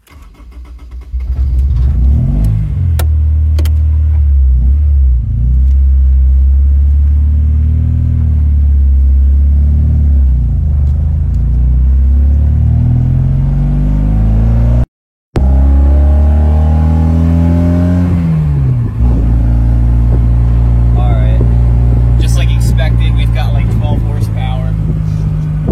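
A manual-transmission car with a faulty idle air control runs and revs hard, the engine note rising and falling loudly and close for most of the stretch, cutting out briefly mid-way before roaring back up, with people talking over it.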